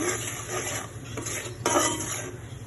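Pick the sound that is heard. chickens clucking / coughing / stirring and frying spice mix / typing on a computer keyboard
stirring and frying spice mix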